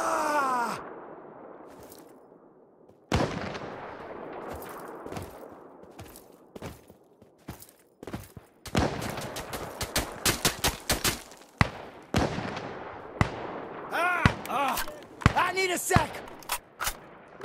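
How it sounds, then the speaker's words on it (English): Sharp sniper and machine gun shots in the video game Insurgency: Sandstorm crack out in irregular bursts, some in rapid strings like automatic fire, with a low voice murmuring and groaning between them. "It's kind of nice hearing the sniper fire."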